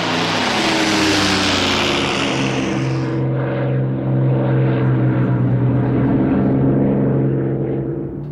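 Hawker Hurricane warbirds take off in formation at an air show in Wanaka, their propeller engines a loud, sustained roar that rises and then drifts slightly as they climb away, with no voices.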